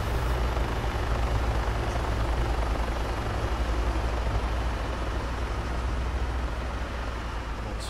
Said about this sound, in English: Two helicopters.